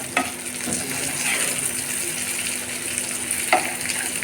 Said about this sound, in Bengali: এখানে পেঁয়াজ টমেটো কাঁচামরিচ দিয়ে কড়া করে মাছ ভুনা করতেছি।